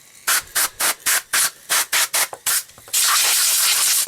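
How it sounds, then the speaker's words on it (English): Canned air sprayed inside a Fender Telecaster: about a dozen short, sharp hissing bursts in quick succession, followed by one long sustained blast, loud and close. "It's a good idea to hit it with some canned air inside and out."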